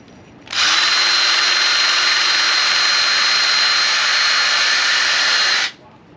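A power drill with a brush attachment whirs loudly at a steady high pitch for about five seconds during a Yamaha RD400 brake caliper rebuild, starting and stopping abruptly, with no talking.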